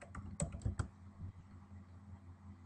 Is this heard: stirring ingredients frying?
no